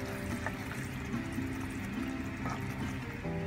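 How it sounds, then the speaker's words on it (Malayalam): Ground coconut paste poured into a simmering avoli fish curry in a Kerala-style pan, a soft, steady liquid trickle and bubbling heard up close for a few seconds with no talk. "ഇതിലേക്ക് എടുത്തു വെച്ച ആ തേങ്ങ അരച്ചതാണ് ഒഴിക്കാൻ പോണത്"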